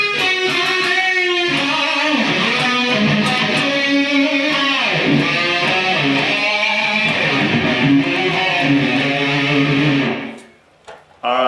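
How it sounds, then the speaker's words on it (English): A Mixolydian mode scale played melodically on a bright, sustained synth-like instrument, notes sliding and stepping up and down over a continuous loud tone for about ten seconds before cutting off, with no talk. "So have a look at the Mixolydian mode first."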